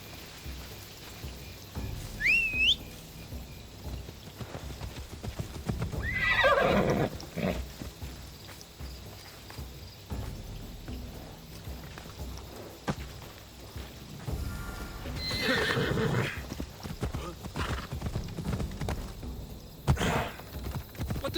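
A horse whinnies twice, loud and close, in the Assassin's Creed Odyssey video game, with steady hoof clip-clop and game ambience running underneath.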